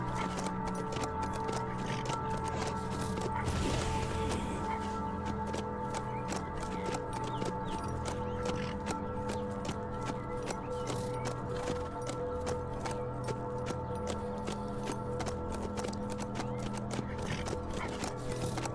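Horse hooves clip-clop steadily in the survival video game HumanitZ, a faint continuous run of rapid, regular hoof clicks over a dense background of game ambience, with no voices.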